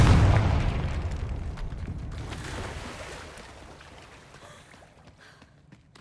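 An explosive Confringo spell cast in a video game bursts with a loud low boom at the start, then a long rumbling, crackling decay that fades steadily over several seconds.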